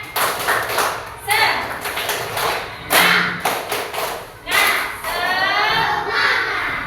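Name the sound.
children's rhythmic spirit clapping (tepuk semangat)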